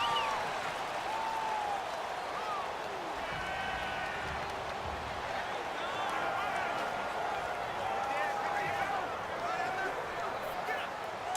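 Stadium crowd noise from a Madden NFL game fills the background as a steady, loud roar of cheering and murmuring fans at a Broncos vs. Chiefs matchup, with a commentator talking over it throughout.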